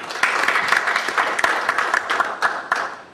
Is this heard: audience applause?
yes